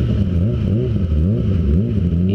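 A Kawasaki ZX25R motorcycle fitted with an Arrow exhaust revs repeatedly, its engine pitch rising and falling in steady pulses, loud and close, with no talk.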